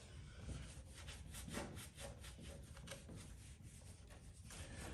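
Steady back-and-forth rubbing with a magic eraser on a body panel of a crashed Nissan S13 drift car, a continuous, fairly close scrubbing rasp in even strokes with no talk.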